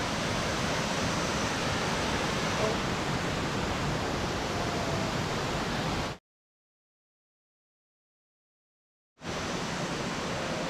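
Pha Taek waterfall in Khao Laem National Park, heard up close from a raft: a loud, steady rushing roar of falling water that cuts out abruptly for a few seconds, then resumes just as strong.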